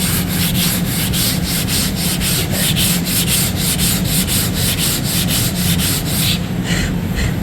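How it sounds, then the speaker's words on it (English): Sanding flattened welds on a ute tray, a loud, close, continuous rhythmic rubbing with steady back-and-forth strokes that slows slightly near the end. "I'll just see if I can sand that on camera"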